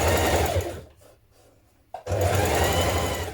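A sewing machine stitching the edges of a long coat runs in a loud, close mechanical whir, pauses for about a second with a clunk, then starts up again at full speed.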